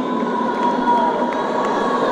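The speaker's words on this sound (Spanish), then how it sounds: "Fuerte el aplauso para el cimiento." A live audience at a mariachi performance cheers and applauds a singer in a brief, dense burst of crowd noise, with no clear speech.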